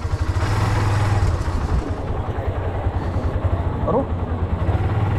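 A motorcycle engine runs close by with a steady low rumble throughout, heard in a market area while someone speaks briefly over it.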